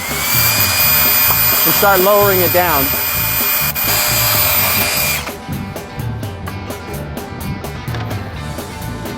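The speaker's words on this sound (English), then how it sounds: "Now I can lean the ladder out and hook my drill up" A cordless drill driving a ladder crane hoist whines steadily and loudly, with a person speaking over it at the start before the motor runs on alone.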